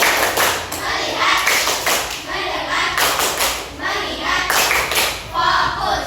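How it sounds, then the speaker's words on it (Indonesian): A group of children in a class claps together on command in quick rhythmic bursts, loud and close, with their voices chanting the counts along between the claps. "tepuk 1, tepuk 2, tepuk 3, tepuk 4, tepuk 5, tepuk fokus"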